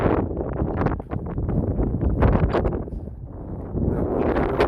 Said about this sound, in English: That wind is really blowing though.